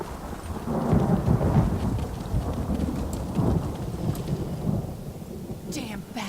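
Rain and thunder in a video game, with low rolling thunder rumbles swelling and fading over steady rainfall, at a moderate level with no voices.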